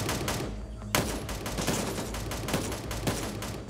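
Older gunfire audio from the video game Gray Zone Warfare: a steady, dense fusillade of rapid shots with a few louder cracks standing out, sustained throughout at moderate volume. No voices.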